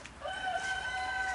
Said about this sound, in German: warum der Hahn bei der Henne steht